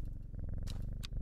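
A cat purrs steadily and close up, a continuous low rumbling throb with two brief brighter noises cutting in near the end.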